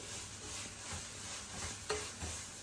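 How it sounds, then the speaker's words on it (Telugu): Onion paste fries in a pan with fenugreek powder while a curry is being made, giving a steady low sizzle with a few soft stirring scrapes, close and moderately loud. "ఉల్లిపాయ పేస్ట్ వేగుతుందండి"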